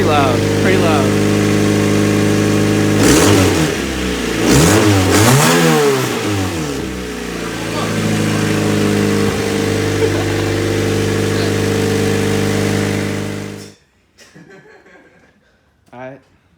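A car engine runs after a clutch repair, loud and close, with several rising and falling revs, then cuts out near the end as people talk and laugh.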